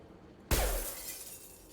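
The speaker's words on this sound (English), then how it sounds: "nobody would have heard the glass breaking" Glass shatters in the video game Mass Effect 2 with one sudden, loud crash, followed by a bright spray of falling shards that trails off over the next second.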